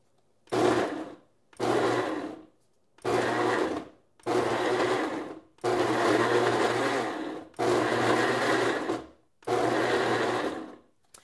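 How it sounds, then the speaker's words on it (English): A Cuisinart Velocity Ultra 7.5 1 HP blender on low pulses vegetables in seven loud, separate bursts of a second or so each, with short silent gaps between them and no talking. "we're going to just pulse several times on low just to break up the vegetables"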